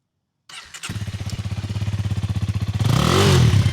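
A Honda 300 motorcycle engine cranks briefly, catches and settles into a fast, even, thumping idle that climbs into a louder rev near the end, heard up close with no talking.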